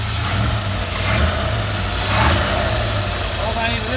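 A 1972 Ford Bronco engine runs at a rough, steady idle and rises in a few brief revs, close and loud, with someone speaking over it.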